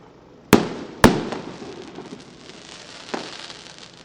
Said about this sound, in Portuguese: Teve queima de fogos antes da celebração.